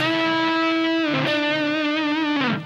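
A distorted electric guitar rings out a sustained note with a wide bend, briefly breaks, then lands and holds firmly on a D root note before fading.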